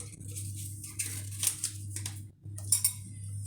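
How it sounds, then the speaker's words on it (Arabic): Ingredients, including oil, being mixed together in a bowl for a homemade pan bread dough, giving soft clinking and scraping of utensil against the bowl over a steady low hum, with no talk. "وهنايا نخلطوا كاملين المكونات."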